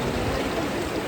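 Steady, close rushing of Small Valley Creek on the Pacific Crest Trail, a continuous broadband wash of flowing water with no voices.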